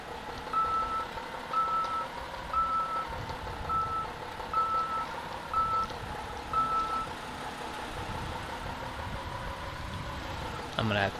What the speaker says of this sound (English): Alright, let's get our truck out of the way.